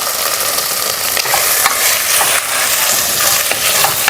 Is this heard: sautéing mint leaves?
yes